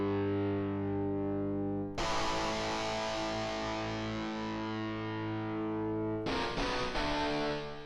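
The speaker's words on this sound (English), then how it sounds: "I always love testing out the electric guitar. So let's see. Oh, we got some power chords." Distorted electric guitar power chords from the ThumbJam iOS app: a loud sustained chord rings out, then a new chord is struck with a sharp attack around two seconds in, and a rapid burst of chopped strums follows near the end.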